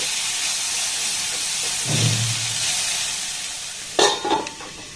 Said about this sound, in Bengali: গ্যাসের ফ্লেমটাকে লো রেখে এবার সবজিটাকে একটু নাড়াচাড়া করে ভেজে নেব।